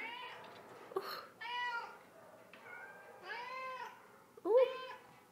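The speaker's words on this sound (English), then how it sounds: "you're a nice kitty cat" A pet cat meows several times at close range, its calls spaced out across the moment, with faint background room noise and no other sound competing.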